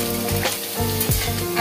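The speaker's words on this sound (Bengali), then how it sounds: "আমি আলুটা একটু ভেজে নিচ্ছি" Diced potatoes frying in hot mustard oil, a steady close sizzle with occasional stirring scrapes and bursts of louder spitting throughout.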